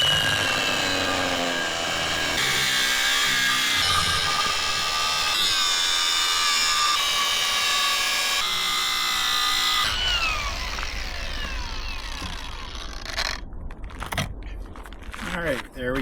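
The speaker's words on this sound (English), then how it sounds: "Now we're going to cut these holes out." A power tool cuts holes out of a brake flange on a 1969 Chevy C20 pickup, a loud continuous grinding whine that shifts in pitch as the cut proceeds and ends in scattered scraping bursts.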